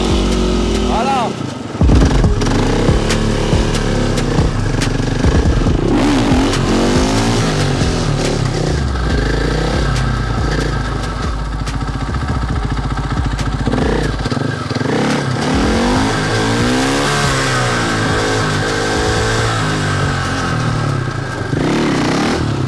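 Motorcycle engine revving loudly and steadily on a wheeling simulator, rising and falling throttle bursts throughout, with people talking and shouting over it.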